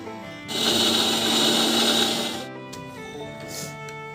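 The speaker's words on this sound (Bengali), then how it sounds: "মিক্সির ঢাকনাটা আটকে ডালটাকে ভালো করে পেস্ট করে নিচ্ছি" A mixer grinder whirs loudly for about two seconds, blending soaked biulir dal (urad lentils) with a little water into a smooth paste, then cuts off, leaving faint kitchen rattles.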